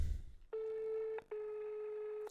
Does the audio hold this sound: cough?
no